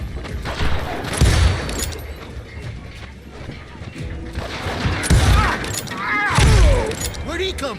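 Gunfire in the Western shooter Call of Juarez cracks out in scattered shots amid clanking mechanical noise and shouting voices, with several sharper reports rising above the mix.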